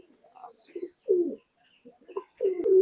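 Pigeons at a seller's stall for Pakistani breeds give a few short, low, throaty coos in separate bursts, fairly close, with a faint high chirp in the background.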